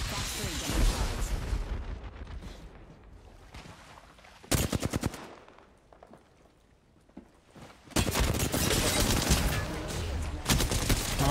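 Rapid automatic gunfire bursts in Apex Legends, with dense loud rattling volleys that drop away to quieter stretches and then return, mixed with game effects and a speaking player's voice.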